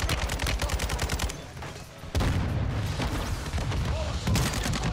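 Grenade launcher fire in Call of Duty ranked play, rapid bursts of loud explosive shots and gunfire in quick succession, close and dense.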